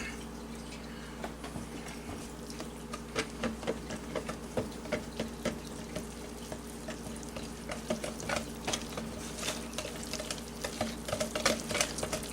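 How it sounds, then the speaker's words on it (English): Batter of self-rising yellow cornbread mix being stirred with a whisk in a bowl, a steady run of soft scraping and light ticking strokes close by, with no talk. "Let me reach over here and get my whisk. We'll stir all that up."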